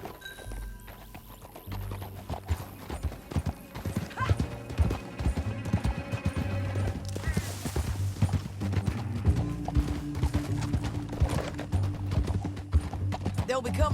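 Steady clip-clop of horse hooves at a trot in Red Dead Redemption 2, with an occasional whinny, over a busy layer of game music and effects.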